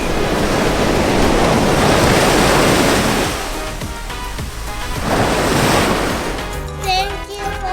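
Ocean surf rolls onto a beach below a resort infinity pool in Los Cabos, a loud, continuous wash of breaking waves with some wind buffeting, swelling and easing over several seconds.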